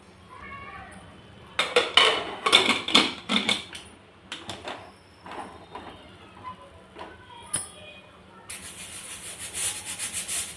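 Potatoes being mixed by hand in a cooker pot for a potato bhaji, with several bursts of scraping and clinking of a spoon against metal, loud and close, followed by quieter knocks and a brief hiss near the end.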